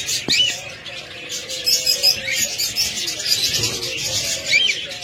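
Caged cockatiels at a bird seller's, half-tame males and a female among them, give a busy stream of high chirps and squawks close by, overlapping continuously with a faint low hum underneath.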